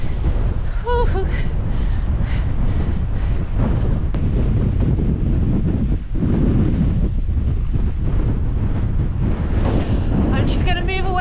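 Strong wind buffets the microphone on an exposed uphill cliff-top coastal path, roaring steadily and loudly for the whole stretch, with brief gasps and a voice partly buried beneath it.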